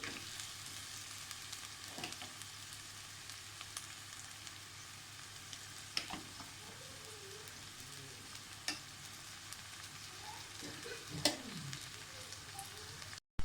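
Boiled basmati rice is stirred into vegetables frying in a pan, a steady soft sizzle with occasional scraping clicks from the spoon, fairly faint and without any talk.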